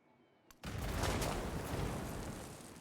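Heavy battleship gunfire in Civilization VII erupts suddenly from near silence into a sustained, rumbling barrage that gradually eases off.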